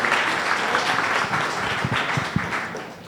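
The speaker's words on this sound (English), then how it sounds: "So give them applause." Conference audience applause, a dense steady wash of clapping that holds throughout and eases slightly toward the end, with a few sharper individual claps standing out.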